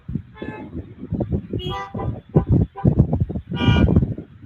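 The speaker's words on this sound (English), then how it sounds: "We just honked immediately." A church congregation at a Sunday service honking together, several loud bursts of horn-like toots and playful voiced honks, overlapping and rising in volume.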